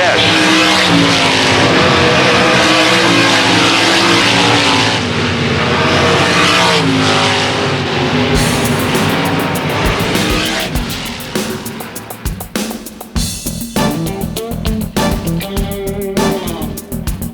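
Race cars tearing around the track at a heat race start during the Kevin Gobrecht Classic, a dense, loud roar of many engines accelerating and droning, with the mix thinning and changing pitch as the pack passes.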